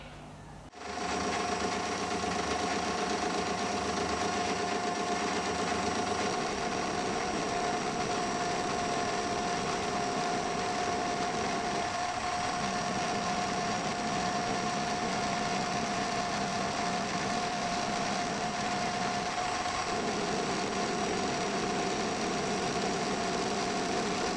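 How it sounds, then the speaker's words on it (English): A lathe machines down the nose of a scratch-built model aircraft engine, giving a steady, loud, continuous whine with a constant hum that runs unbroken throughout, without talk. "now I need to machine down what will basically be the nose of the engine"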